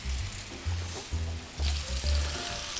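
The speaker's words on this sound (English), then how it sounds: "Then we'll sear the sides just a little bit" Short ribs sear in a hot pan in a restaurant kitchen, giving a steady close sizzle with recurring low thuds and bursts as the meat is shifted and turned.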